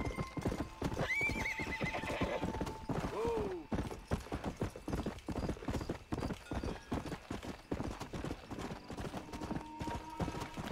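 Steady clip-clop of horse hooves in the Red Dead Redemption video game on Xbox One S, continuous and rhythmic across the whole stretch, with a couple of neighs and whinnies early on over a faint game background.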